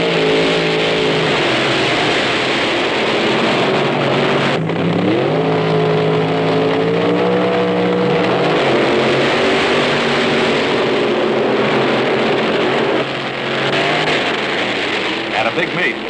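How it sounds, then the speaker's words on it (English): A drag racing hot rod engine fires and revs loudly at the strip, its pitch climbing and dropping in a sustained roar, with talk over it. "When the car fires, you're ready to go."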